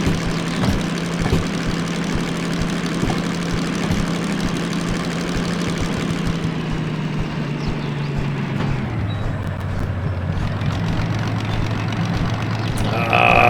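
A diesel locomotive engine in the Derail Valley train simulator game runs at high revs with a loud, steady low drone, then the pitch drops partway through as the revs settle, close and continuous with no talking.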